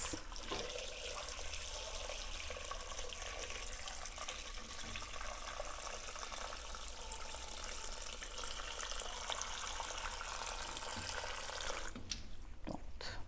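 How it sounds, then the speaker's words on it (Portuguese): Water pours steadily into a pot of green bananas until it covers them. The pour is a continuous, even hiss that stops abruptly near the end. "Nós vamos, então, agora acrescentar água"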